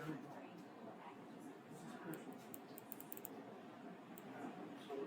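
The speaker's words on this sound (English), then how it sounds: "double click and let's type over it" Quiet clicking of keys on a computer keyboard as text is typed over in a drafting program, with irregular bursts of taps under a faint background hum and a voice that appears to speak.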